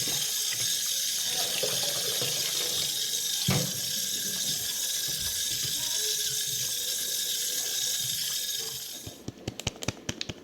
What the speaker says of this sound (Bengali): দেখুন মাছগুলো আমি ভালো করে ধুয়ে নিচ্ছি